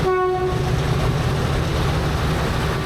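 The Reunification Express passenger train rumbles loudly and continuously at close range in Hanoi, Vietnam, its horn sounding briefly at the start over the steady roar.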